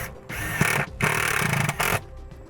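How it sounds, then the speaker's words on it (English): A power driver spins self-tapping screws into metal to mount a trailer wiring junction box, with two loud sustained whirring bursts, one short and one longer, close by. "We'll be using a couple self-tapping screws to secure this."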